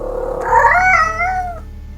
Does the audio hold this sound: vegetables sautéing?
no